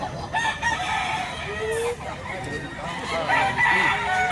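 Roosters crow repeatedly at a busy gamecock market in Batangas, with several calls overlapping at mid distance over steady crowd noise and a seller's voice calling out.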